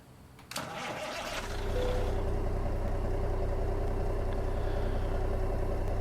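A Kenworth K100e cab-over truck engine in American Truck Simulator cranks briefly, catches and settles into a steady, loud, low diesel idle that rumbles on alone.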